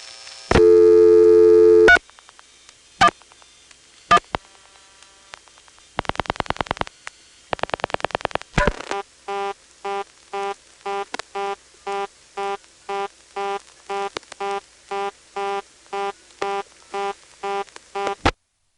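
Telephone reorder tone on a senderized XY step-by-step switch in Occoquan, Virginia, reached by dialing a vacant code: a few clicks and tone bursts, then a steady series of evenly spaced rapid on-off beeps.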